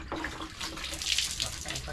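Water is poured from a container over a chained dog's head during a bath, a steady splashing pour with a voice talking over it.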